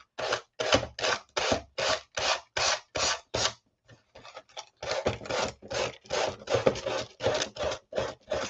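Rhythmic scraping strokes of a sanding block, about two per second, close and steady, with a brief pause midway before the strokes resume.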